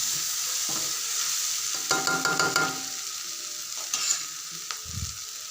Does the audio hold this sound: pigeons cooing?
no